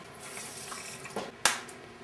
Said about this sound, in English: Let's just add a little bit of water.